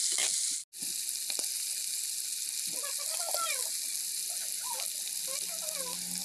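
Chicken pieces fry in a pan with a constant close sizzle, broken by scraping and clinking stirring sounds from a utensil against the pan after a brief cut at the start.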